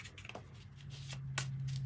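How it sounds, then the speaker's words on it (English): Tarot cards shuffled by hand in a steady riffle of soft papery flutters, with a brief sharper burst near the end, close up over a low constant hum and no talking. "Let me give it one more good shuffle there."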